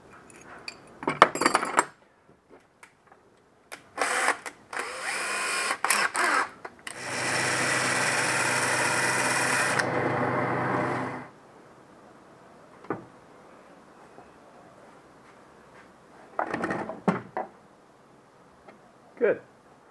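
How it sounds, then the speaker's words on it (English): A power drill spinning nuts against a grinder to taper them whirs steadily for a few seconds, grinding loudly, between scattered clinks and metallic handling noises. "Put them in my drill, and grind down one side"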